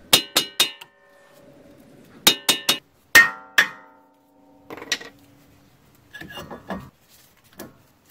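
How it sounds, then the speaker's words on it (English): Hammer blows on a front brake rotor of a 2015-2018 Ford Mustang EcoBoost, knocking it loose from the hub: quick bursts of three sharp metallic clanks repeated several times, close and loud, with quieter taps and scraping between. "now you want to use a hammer on the rotor till it separates from the hub"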